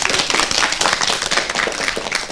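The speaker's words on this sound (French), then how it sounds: "Et ça mérite une bonne main d'applaudissement." Audience applause fills a stage performance at a school arts and shows program, dense steady clapping from a crowd with no gaps, loud and close throughout.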